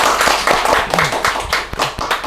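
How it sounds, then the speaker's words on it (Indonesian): Scattered clapping from a small seated audience at an indoor gathering: sharp, irregular hand claps close by, fairly loud, with little talk. "Tepuk tangan dulu."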